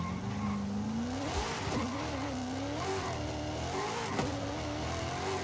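Race car engine in Forza Horizon 5 droning and rising in pitch through gear changes, steady and close, with brief tire-squeal moments and no talking.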